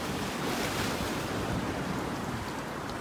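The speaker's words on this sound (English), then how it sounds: "You can actually see the water surging through the jetty." Storm-driven high-tide surf surges against and over a rock jetty in strong wind, a continuous loud roar of crashing water and wind noise with no talking.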